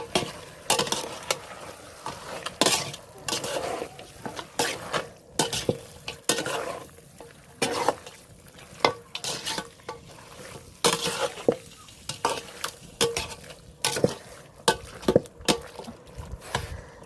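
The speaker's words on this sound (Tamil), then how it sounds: "நல்லா இந்த மஞ்சத்தூள் உப்பில் கொஞ்சம் நேரம் கறி நல்லா வதங்கட்டுங்க" Country chicken with turmeric and salt sautés in a pan, stirred in repeated scraping strokes over a faint sizzle, with sharp utensil clacks scattered through; no talking.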